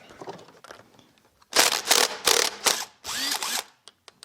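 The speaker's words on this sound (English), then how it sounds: "Go get a socket over here and try my impact." An impact wrench with a socket works a bolt on a Honda CT200 Trail 90 motorcycle engine during teardown, firing several loud, close rattling bursts after some quieter handling clatter.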